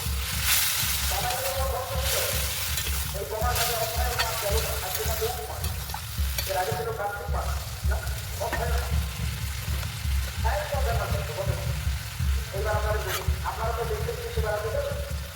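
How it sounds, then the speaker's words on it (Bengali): Vegetable curry with mixed vegetables frying in a hot pan, a steady loud sizzle broken by repeated scraping stirs, with a low rumble underneath and short bursts of voice. "এবার তরকারিটা ঢেলে দেবো।"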